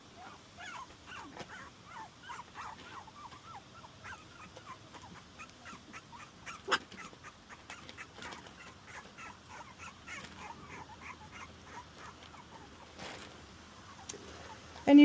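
Pomsky puppies whimper and yip in quick, irregular high-pitched bursts throughout, fairly close, with soft rustling and one louder knock near the end.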